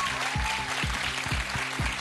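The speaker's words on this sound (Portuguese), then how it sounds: "Uma salva de palmas pro Rolando, por favor." A studio audience claps steadily at a Brazilian MTV comedy show, a dense round of applause that fills the short span without pause.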